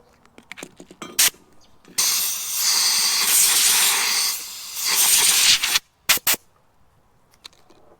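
Compressed air blowing dust out of a drilled hole for a threaded rod: a few mechanical clicks, then a loud sustained hiss lasting nearly four seconds, followed by short sharp bursts and rattles.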